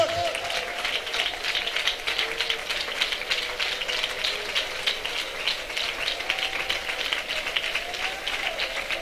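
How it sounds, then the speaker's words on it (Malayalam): Church congregation at a Christian worship service claps hands continuously and rhythmically, a dense steady wash of applause that fills the room with a sustained voice line running above it. "നല്ല അടിക്കണം, നല്ല കൈ തട്ടണം"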